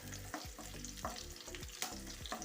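Masala powders go into bitter gourd pickle in a pan and are stirred in with a soft sizzle, with regular scraping stir strokes recurring through a quiet, close frying hiss.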